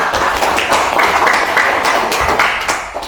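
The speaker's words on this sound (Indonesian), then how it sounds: "Bagus, tepuk tangan." A school class claps hands together in a classroom, a steady flurry of many overlapping claps lasting about three seconds at close range, with no talking.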